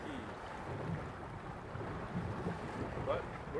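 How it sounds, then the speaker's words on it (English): Steady wind gusts blowing across a fishing bridge in the Florida Keys, a constant broadband rush with buffeting on the microphone and faint water wash underneath, no talk. "it's very windy and chilly for April here in the Keys."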